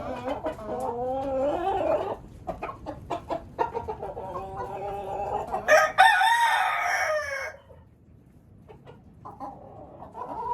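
Farmyard chickens being called to feed cluck and squawk in close, repeated bursts, with one louder excited outburst midway before a short lull and more clucking.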